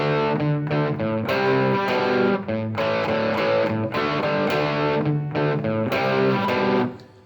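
Distorted electric guitar plays a riff in A, loud and close, with repeated chord stabs and ringing notes in a steady rhythm, alone without talk.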